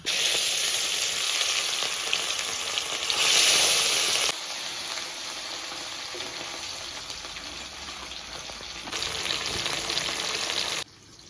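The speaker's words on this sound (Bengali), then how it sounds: "তেলটা গরম হয়ে গেছে, এবার মাছগুলো এক এক করে ভেজে নেব" Loud, continuous sizzling and crackling of rohu fish frying in hot oil, the hiss shifting in intensity, then cutting off abruptly near the end.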